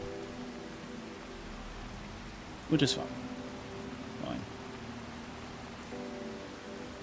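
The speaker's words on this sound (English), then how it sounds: "it's raining in game right now" Steady rain from the video game Farming Simulator 25 forms a constant hiss through the whole stretch, with a sharp transient near the middle, while someone talks over it.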